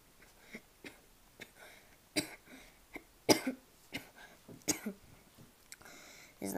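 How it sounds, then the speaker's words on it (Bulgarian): A series of short coughs, some sharp and some muffled, spaced irregularly across several seconds, fairly close with quiet pauses between them. "Не знам, що кашлям така."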